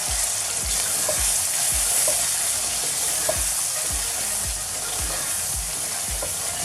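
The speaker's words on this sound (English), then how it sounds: "I'm just going to give it a good mix in there" Chicken bhuna with curry powder and cumin powder sizzles loudly in a frying pan while being stirred, a constant hiss punctuated by regular soft thumps of the spoon against the pan.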